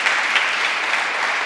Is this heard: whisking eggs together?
no